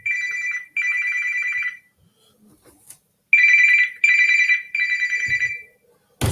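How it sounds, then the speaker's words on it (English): A telephone rings in repeated electronic bursts during an essay-writing lesson, with two short rings, a pause with faint rustling, then three more close, loud rings. "sorry for that little interruption, a phone call in the middle of a lesson"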